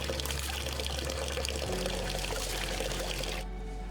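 Water pours steadily from a tap on a school campus in Kajiado, a continuous close splashing stream that fills the whole stretch and stops abruptly near the end.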